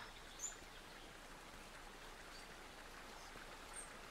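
Steady, gentle rush of flowing water, like a nearby stream, in the video game Eastshade, continuous and fairly quiet with a couple of faint bird chirps.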